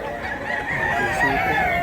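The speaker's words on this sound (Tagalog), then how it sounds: "Wapo pag manok mga idol." A young bullstag rooster, under a year old, gives one drawn-out crow close to the microphone, over faint background noise.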